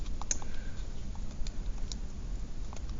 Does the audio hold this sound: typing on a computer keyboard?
yes